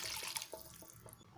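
A glass of water, used to rinse a mixer jar, is poured into a fish curry, giving a faint, brief splashing and trickling of liquid.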